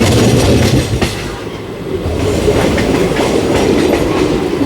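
A passenger express train runs steadily on rails near a Bengaluru metro line, giving a loud continuous rumble with rhythmic clickety-clack from the wheels and no voices.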